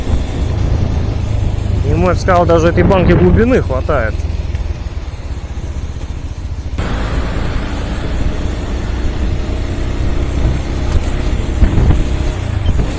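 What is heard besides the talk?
Regulmoto Alien Monster 300 motorcycle engine while riding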